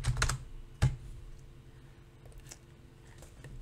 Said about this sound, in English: Maybe we can type THN.